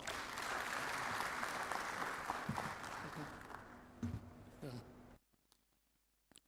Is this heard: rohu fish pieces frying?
no